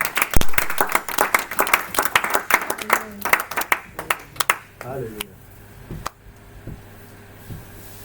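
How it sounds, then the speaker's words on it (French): A church congregation bursts into loud, dense applause during a sermon, claps crackling together for several seconds and then thinning into a few scattered, isolated claps as the room settles. "Acclamez pour vous-même. Acclamez."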